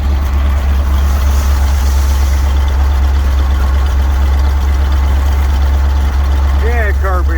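A Dodge C800 truck engine idles roughly, missing on two cylinders, with a loud continuous low rumble throughout and voices talking over it.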